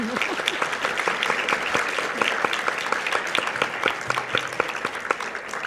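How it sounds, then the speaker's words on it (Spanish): An audience at a Spanish-language talk on language and ancestral American herbs and stimulants applauds a newly introduced speaker, a steady, dense clapping that carries through the whole stretch at moderate loudness. "Démosle por favor un aplauso."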